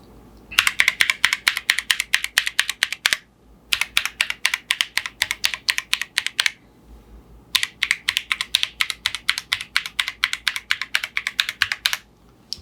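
Typing on a Keychron Q1 Pro mechanical keyboard fitted with beer switches on the letter keys and original banana switches elsewhere: close, crisp, rapid keystrokes in three bursts separated by short pauses, with no talking.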